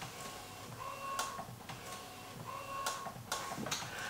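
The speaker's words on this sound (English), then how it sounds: "It's printing." An Epson P700/P900 photo printer runs a large image through its front paper feed. Quiet mechanical whirring is broken by sharp clicks and ticks at irregular intervals as the print head and paper advance, heard close up with no talking.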